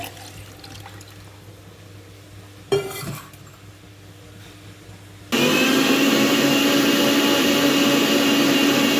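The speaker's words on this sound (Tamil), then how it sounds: "இப்போ வந்து மிக்சியில் ஜாரில் போட்டு ஒரு அடி அடிச்சுக்கலாம்." A mixer grinder jar blending ginger and mint with sugar switches on after a quiet stretch and a brief clatter, then roars loudly and steadily to the end, with no one talking.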